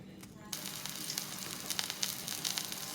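Meatballs frying in a pan, a steady close sizzle with crackling pops flaring above it throughout.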